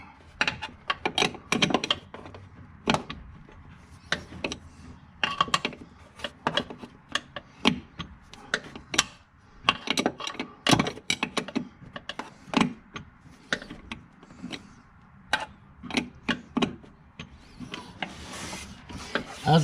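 A wrench working on the front shocks of a C5 Corvette, a string of sharp metallic clicks and ratcheting scrapes in uneven bursts, close and fairly quiet, with no talk.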